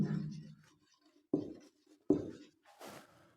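Chalk or marker strokes on a board, in a few short scratchy bursts separated by brief pauses, close and clear with no talking.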